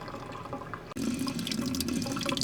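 Water running from an RV faucet during water system sanitizing, a quiet steady splashing stream that starts up abruptly partway through and continues evenly, with no voices.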